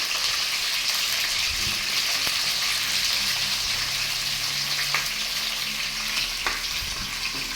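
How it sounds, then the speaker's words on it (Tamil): Onion, garlic, green chilli and curry leaves fry in oil for a gongura thokku, giving a constant, close, dense sizzle with faint stirring scrapes throughout and no voices. "வெங்காயம் சேர்த்துக்கிறேன் இதுக்கப்புறமா இது கூடவே பூண்டு பச்சை மிளகாய் இதெல்லாம் சேர்த்துக்கலாங்க கருவேப்பிலையும் சேர்த்துக்கிறேன்"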